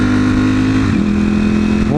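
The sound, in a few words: pickup truck engine revving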